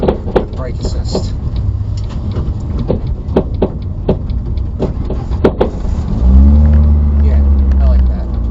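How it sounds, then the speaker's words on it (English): A car engine starts at about six seconds and settles into a steady low idle after clicks and handling noises. The car has a faulty clutch cable and a low 4-volt reading. "I'm thinking I might start the engine just for the brake assist."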